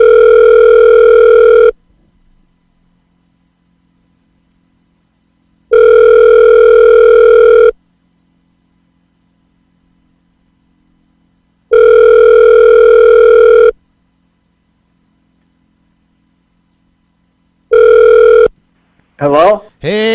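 A telephone call rings out with three long, loud ringback tones separated by silent gaps, then a fourth tone cut short as the line is answered and a voice begins speaking.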